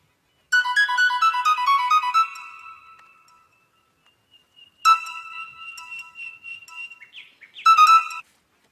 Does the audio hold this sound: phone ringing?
yes